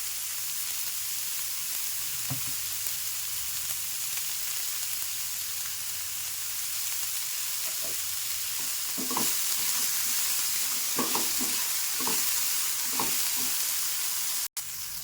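Potatoes, onions and peas fry in a pan with a continuous close sizzle, joined midway by a few scraping stirs of a utensil against the pan.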